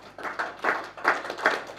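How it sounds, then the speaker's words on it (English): A small audience claps after a presentation: a few scattered, uneven claps, soft and somewhat distant, over a quiet room. "Give yourselves a round of applause"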